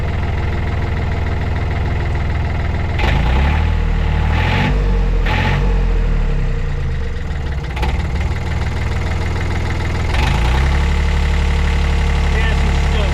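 A Yanmar track dumper's diesel engine idles with a steady low chug, then climbs in brief revs and drops back, running close and loud throughout, with a voice speaking over it.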